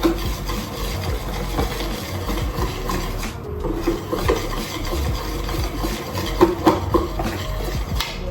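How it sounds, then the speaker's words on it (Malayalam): Banana cake batter mixed with oil: continuous close rubbing and scraping strokes in an uneven rhythm, with a few sharper knocks against the bowl. "എന്നിട്ട് വീണ്ടും നന്നായി മിക്സ് ചെയ്ത് വെക്കാം. ആ ഓയിൽ എല്ലായിടത്തേക്കും നന്നായി ബ്ലെൻഡ് ആവണം."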